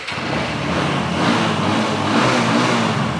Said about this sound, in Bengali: ইঞ্জিনের সাউন্ডটা দেখেন মাথা নষ্ট করা সাউন্ড এটা